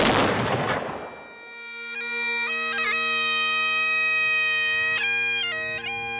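A cannon booms once at a sunset ceremony at Big Cedar Lodge in Missouri, a loud close blast that rolls off over a couple of seconds. Sustained music follows and continues after it.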